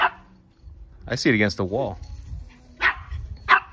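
A dog barks and yips in short bursts around a backyard Easter egg hunt with children, its calls close and clear, followed by adults talking nearby.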